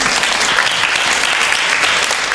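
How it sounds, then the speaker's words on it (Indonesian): Audience applause at an Islamic religious talk by an ustadz, a dense steady wash of clapping filling the whole stretch at a loud, even level with no voices over it. "tepuk tangan buat Ahilman."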